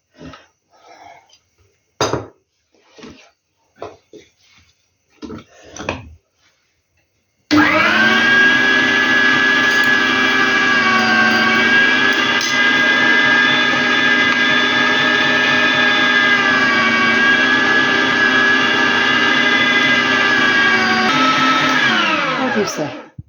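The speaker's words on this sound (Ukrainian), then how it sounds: "А зараз буду цибулю молоти." An electric grinder roars continuously for about fifteen seconds while grinding onion for homemade pelmeni filling, loud and steady after several short knocks and handling sounds.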